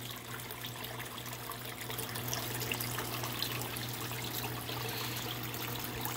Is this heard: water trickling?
yes